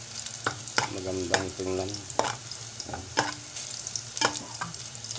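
Garlic sautéing in a pan for a Filipino sarciadong dalagang bukid fish dish, with steady sizzling broken by sharp scraping stirs and a brief voice partway through.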